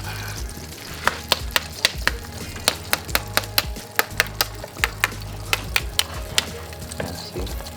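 Smoked Filipino pork belly lechon sizzling as it cooks, a steady fatty hiss punctuated by frequent sharp crackles and pops at an irregular rhythm, close and clear with no talking.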